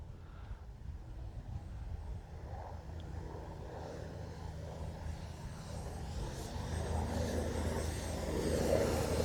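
Radio-controlled B-25J Mitchell model plane flying low past a runway, its engine drone steady and moderately distant, building gradually louder toward the end.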